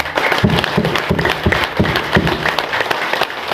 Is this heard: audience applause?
yes